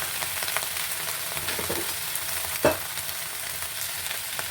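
Brinjal and tomato frying in oil in a pan for an Andhra-style chutney, a steady soft sizzle with occasional stirring scrapes and one sharper clink partway through, close and with no talking.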